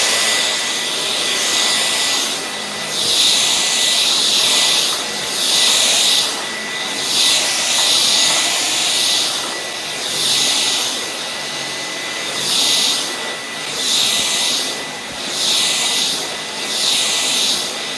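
Dyson V12 Detect Slim cordless vacuum running on a rug, a loud steady whine that swells and dips rhythmically as it is pushed back and forth, with no talking.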